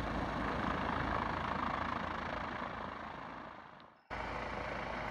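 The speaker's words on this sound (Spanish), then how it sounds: "Hace falta un helicóptero de rescate." A rescue helicopter over steep mountain terrain gives a steady droning engine and rotor noise that slowly fades, cuts out briefly, then returns abruptly at full strength.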